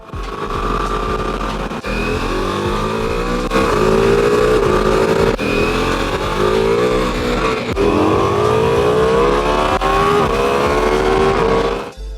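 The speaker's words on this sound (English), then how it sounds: "Just the noise of that 4-cylinder bike." A Ducati Multistrada V4S four-cylinder motorcycle engine revs hard and high, climbing and dropping in pitch with brief gaps between gear changes, loud and close.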